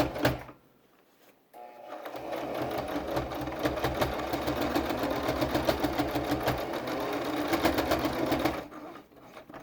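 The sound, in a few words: sewing machine stitching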